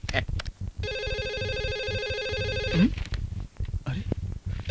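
A telephone rings in an old Bhojpuri film scene, a steady electronic ringtone tone that holds for about two seconds between stretches of people talking.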